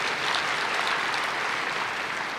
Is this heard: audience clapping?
yes